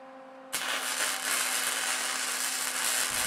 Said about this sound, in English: And I'll tack weld 1 piece of angle iron, complete the welds,